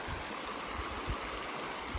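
Cataract Creek in South Kananaskis in the Rockies rushes past in a steady, broad wash of flowing water, close and continuous, with a few low thumps beneath the stream's hiss and no talking.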